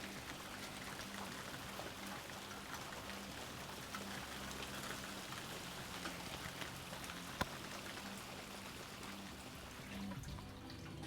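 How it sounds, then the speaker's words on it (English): Dense, steady rainfall patters and hisses on surfaces nearby, a constant wash of drops with one brief sharp tap partway through. "I love the sound of rain."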